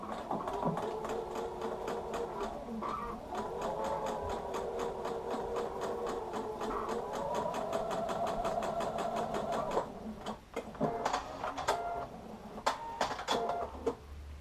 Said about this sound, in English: I'm going to go ahead and take this over to the sewing machine right here, and I'm going to sew directly on